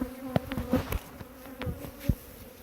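Honey bees buzz around an opened hive, agitated, with faint droning and scattered sharp close passes and thumps over a short stretch, no voices.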